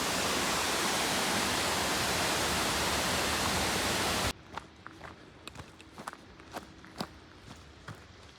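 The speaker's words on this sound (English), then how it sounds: "River Crossin." A river crossing on the Pacific Crest Trail begins as a loud, dense rush of flowing water, then cuts off abruptly to quiet ground with scattered footsteps and small knocks.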